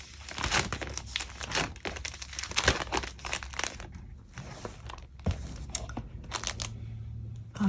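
Decorative sticker sheets being handled for a planner setup, with repeated crinkling and rustling of paper and plastic, close and moderately loud, in irregular bursts throughout with no voice.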